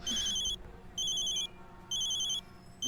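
A phone rings in three evenly spaced electronic bursts, each about half a second long, bright and clear over a quiet room.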